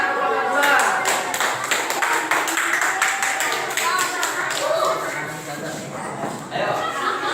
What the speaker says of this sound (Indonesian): Beri tepuk tangan untuk kelompok dua.